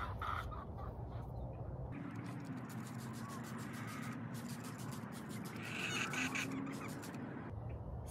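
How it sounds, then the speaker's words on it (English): Chickens cluck in the background, a mix of soft repeated clucks and calls over a steady low hum. "You can definitely hear my chickens in the background."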